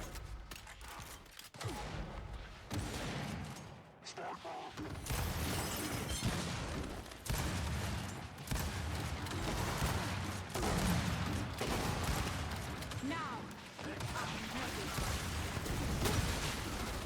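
Gunfire in the video game Gears of War comes as repeated bursts and rattling volleys that continue across the scene, with voices speaking between and over the shots.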